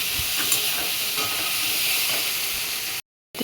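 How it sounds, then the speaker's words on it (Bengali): Pumpkin pieces frying in a pan: loud, dense hissing sizzle with faint spatula scrapes, up close and steady for about three seconds before cutting off abruptly, no voices. "আমার কুমড়োগুলো ভাজা হয়ে গেছে"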